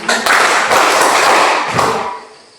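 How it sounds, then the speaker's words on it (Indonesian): A classroom of students clapping together in a single burst, a dense flurry of hand claps that carries for a couple of seconds and then fades out, with no one speaking over it. "1 kali tepuk tangan semua"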